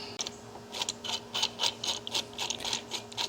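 Screw being driven into a Borgeson power steering unit on a 1978 Corvette, a rapid series of close mechanical ratcheting clicks in steady rhythm with no voices.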